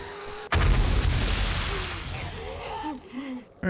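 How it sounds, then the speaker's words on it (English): A sudden loud explosion bursts in 7 Days to Die Alpha 20, followed by a long decaying rumble while a voice speaks faintly underneath, then another sharp blast at the end. "All right, here, have some more explosions."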